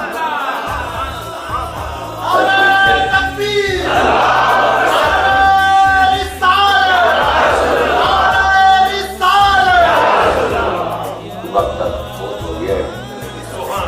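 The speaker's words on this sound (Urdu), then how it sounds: "تو نعرے ماشاءاللہ روک بھی نہیں سکتے" A crowd at an Islamic religious gathering, during a sermon about the Prophet Muhammad, chants slogans loudly in repeated shouted waves that swell and drop back several times.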